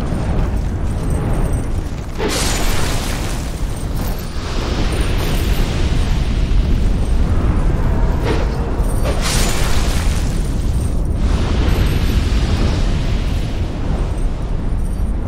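A sustained explosion in Dark Souls 2 rumbles loudly and continuously, with sharp bursts and cracks standing out within a deep, roaring wash that lasts throughout, with no talking.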